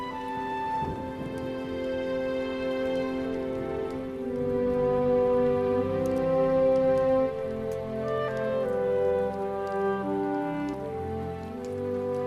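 Rain falls on a spring morning, a steady patter on surfaces that runs throughout beneath sustained tonal music.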